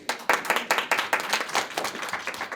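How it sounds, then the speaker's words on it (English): Group of hands clapping at a children's music academy recital, bursts of claps landing in a rhythmic pattern, close and fairly loud with no one speaking. "Clap for them."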